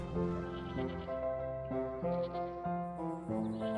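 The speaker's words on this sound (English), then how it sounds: "Oh, there's the black sheep." Sheep bleat in the video game Wytchwood, with a steady series of wavering calls layered over a continuous tonal background, moderately loud and with no speech.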